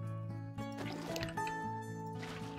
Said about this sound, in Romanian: Și punem aici la apă până nu se mai poate.